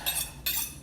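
Two quick, bright metallic clinks of cutlery sound close by, about half a second apart, as a knife is picked from a kitchen drawer or utensil holder.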